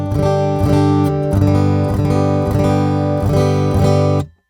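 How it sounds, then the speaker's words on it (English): Acoustic guitar strummed in steady chords through an Elite Acoustics StompMix X4-2 Pro mixer, full and close with a rhythmic pattern, ringing for about four seconds before cutting off. "let's plug in the acoustic guitar and hear what that sounds like."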